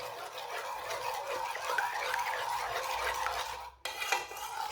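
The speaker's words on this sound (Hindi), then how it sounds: "1 चम्मच ऑयल डाल लेंगे। इसे भी साथ ही मिक्स कर लेते हैं।" A spoon stirs an egg and a spoonful of oil together in a bowl, a steady close scraping and clinking against the bowl that continues for several seconds, with a brief pause near the end before the stirring resumes.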